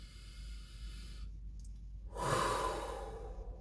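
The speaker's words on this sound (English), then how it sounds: "So go ahead and take a deep breath. One more." A deep breath taken during a guided breathing exercise, a slow, soft, airy exhale that swells and fades after a quiet pause, with no talking.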